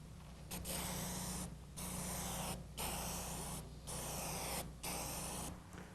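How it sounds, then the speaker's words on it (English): Red oxide Mar-hyde aerosol primer sprays from a can onto a car body repair in about five steady bursts, each a loud close hiss lasting roughly a second with short pauses between. "We're going to use the red oxide Mar-hyde aerosol primer."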